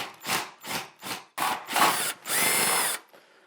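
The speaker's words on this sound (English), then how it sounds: "Making sure that I'm drilling straight." An electric drill bores into pine wood in short bursts, four quick whirring pulses followed by a longer grinding run, close and fairly loud, then stops.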